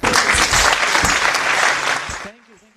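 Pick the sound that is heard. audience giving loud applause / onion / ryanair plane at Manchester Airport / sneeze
audience giving loud applause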